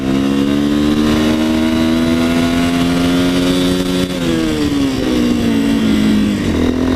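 A Bajaj Dominator 250 motorcycle accelerates hard in second gear in traffic, its engine note rising steadily and loudly, then dropping briefly before climbing again near the end.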